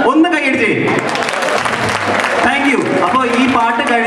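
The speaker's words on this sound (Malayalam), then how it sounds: "അതുകൊണ്ട് എല്ലാവരും ഒന്ന് കൈയടി ചെയ്യും." An audience claps along at a KCS Christmas gathering before a group song, the clapping running under a prominent voice talking over it.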